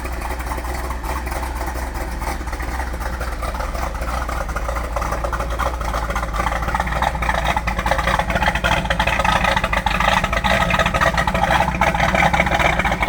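A 1968 Ford Mustang GT Fastback with a 428 Cobra Jet V8 runs steadily at idle, a loud, close, continuous rumble that swells slightly toward the end, with no talking.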